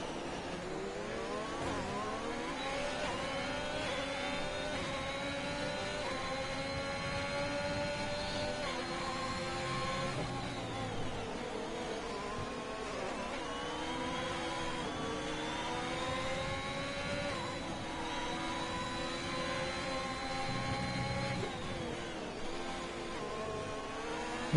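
Formula 1 cars race at the Bahrain Grand Prix in F1 2021, with a high whining engine note rising and falling through gear changes as cars pass, steady and continuous for the whole stretch.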